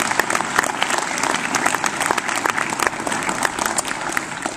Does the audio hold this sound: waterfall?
no